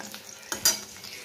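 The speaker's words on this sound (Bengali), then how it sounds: "আর এইদিকে চলছে বেগুন ভাজা।" Eggplant (brinjal) slices frying in a pan, with soft sizzling and a few brief utensil scrapes and clinks standing out over about a second.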